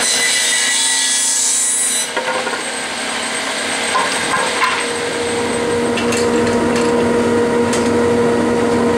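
A 12-foot wooden board is cut up in a workshop with a dust collector running, giving a steady, loud sawing and rubbing noise that continues for the whole stretch with no talk.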